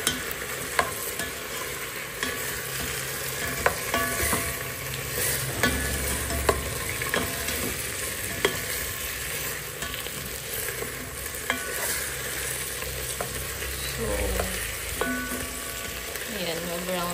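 Chicken pieces fry and sizzle in a pan with chili leaves, a steady crackling hiss broken by repeated scraping stirs of a utensil, close and fairly loud throughout.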